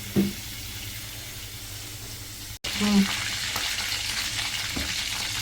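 Oil and water bubble and spit steadily in a pan nearby. Faint frying crackle continues throughout, broken by a couple of short scraping stirs, with no clear talk.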